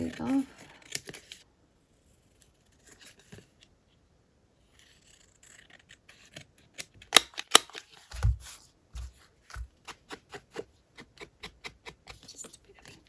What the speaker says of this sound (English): I'm going to cut that bit off